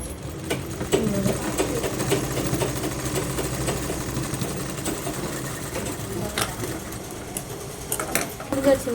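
A sewing machine stitching a paa-style blouse neck runs steadily and loudly with a continuous mechanical whir and small clicks throughout.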